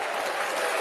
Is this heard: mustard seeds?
no